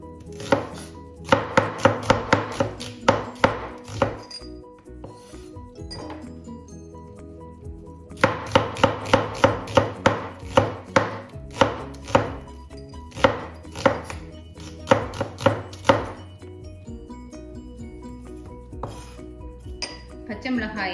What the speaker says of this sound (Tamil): பச்சை மிளகாயை வந்து இப்படி இந்த நீள ஷேப்பில் தான் நாங்கள் வெட்டி எடுக்க வேணும்.